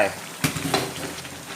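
Blanched, chopped noni leaves drop into a pot of simmering coconut milk curry for a tilapia dish, giving a soft hiss and gentle bubbling with a couple of light stirring knocks.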